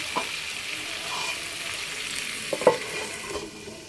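Curry sautéing in a covered pan, a steady low sizzle with a couple of faint knocks partway through, heard close with no speech.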